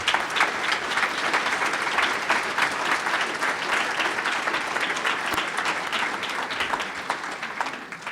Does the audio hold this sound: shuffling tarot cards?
no